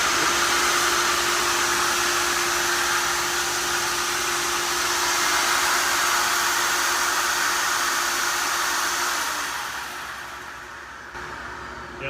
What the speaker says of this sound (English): whenever I narrate, the vacuum hopper decides to reload